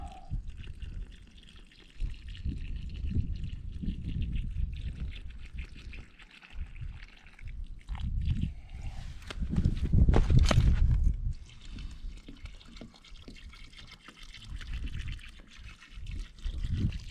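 A gallon of water is poured into a post hole for a T-post electric fence, giving a long, uneven gurgling pour and trickle outdoors that swells and fades with rustling and handling noise.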